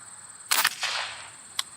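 A single sharp crack from a Beeman Raider air rifle fired on a shooting range, followed by a softer rattle and a brief second click, with no talk.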